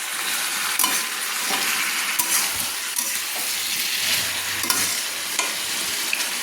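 Papaya curry with potatoes stirred in a frying pan, a steady sizzle under repeated scraping strokes of a spoon against the pan, close and continuous.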